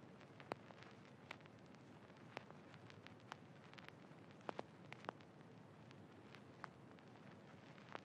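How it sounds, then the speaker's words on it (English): A quiet vinyl crackle texture hisses steadily throughout, scattered with sharp random pops and clicks, some louder than others, with nothing else playing over it. "It's just a vinyl crackling sound"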